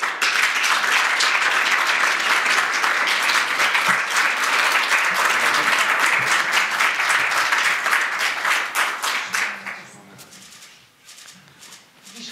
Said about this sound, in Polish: Jeszcze raz wielkie brawa dla laureata.